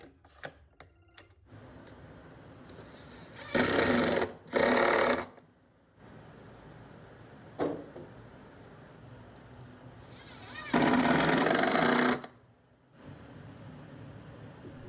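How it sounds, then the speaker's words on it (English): A power drill boring holes through a workbench width stretcher: three loud whirring bursts of a second or two each, with quieter workshop handling noise between them. "All you have to do is line up the piece and drill the holes"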